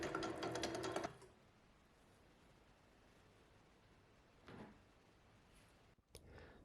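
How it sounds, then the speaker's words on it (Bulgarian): An electric mixer, switched to a faster speed, whirs loudly for about a second while mixing cocoa sourdough brioche dough, then cuts off, leaving quiet room noise with a couple of soft clicks and knocks. "Превключете миксера на по-бърза степен, за да се смесят по-добре."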